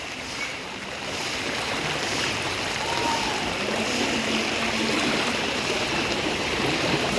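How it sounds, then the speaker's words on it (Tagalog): Loud, continuous rushing of a strong flood water current, a steady powerful roar with no pauses, close by. "Sobrang lakas ng agos."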